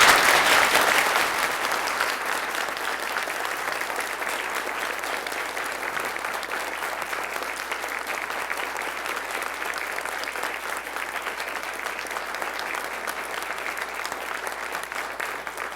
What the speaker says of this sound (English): I'm going to ask you to respond by the sound of applause.